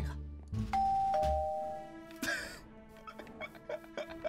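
A doorbell chimes in a Minecraft-based Hello Neighbor game, a clear two-tone ding-dong ringing out over a low background, followed by a few softer game sounds.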